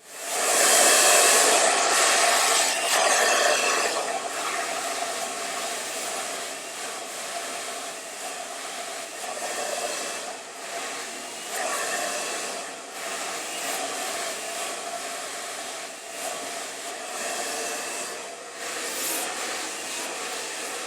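A hair dryer blows steadily through a salon blow-dry session, a loud continuous airy roar that surges at the start and then holds with slight wavering as it moves over the hair.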